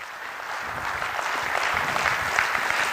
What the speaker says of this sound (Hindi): तालियां बजती रहे सर।